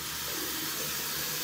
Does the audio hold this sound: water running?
yes